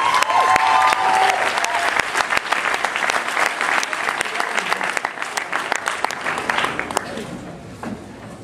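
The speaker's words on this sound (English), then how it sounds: "a bigger round of applause for Mark Powers" A convention panel audience applauds the writer of Rest at New York Comic Con, dense clapping sustained for about seven seconds before thinning out, with some voices mixed in.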